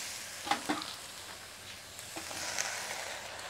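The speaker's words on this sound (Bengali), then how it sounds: "এই যে টক পাতা দিয়ে দেবো এখন কড়াইতে" Sour chukor leaves hitting a hot, empty wok on a gas stove while making a spiced chutney, giving a soft, steady sizzle with a couple of sharper crackles near the start and no talking.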